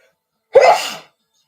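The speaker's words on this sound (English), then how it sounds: "After I sneeze, apparently." A single sharp sneeze bursts out close up, loud and abrupt, then fades quickly into silence.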